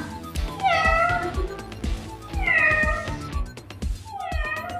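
A cat meows repeatedly as a sound effect in a Telugu children's play, three drawn-out, wavering calls over a busy rhythmic background of low thumps and clicks.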